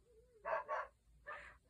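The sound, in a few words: dogs barking behind a door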